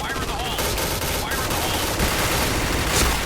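Pink Dragon gun firing rapidly in the shooter video game Point Blank, dense continuous bursts of gunfire mixed with game effects and a voice talking over the shooting.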